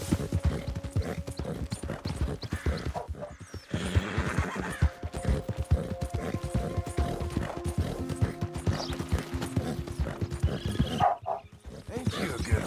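Horse in the video game Red Dead Redemption 2 clip-clopping along at a steady pace, with a loud whinny partway through and someone talking over the hooves.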